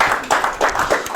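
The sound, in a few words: audience applause for Annika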